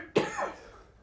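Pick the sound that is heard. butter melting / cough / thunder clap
cough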